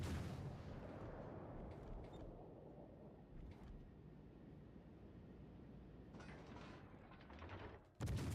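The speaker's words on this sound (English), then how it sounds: "there's HE fire spam out there" High-explosive shell fire in a video game battle, a steady dull rumble of distant blasts with a few sharper bangs scattered throughout and a loud boom at the end.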